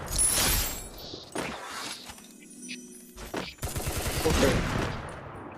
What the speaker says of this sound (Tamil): ஸ்னைப்பர் முன்னாடி இங்க இருந்து அடிக்கிறாங்க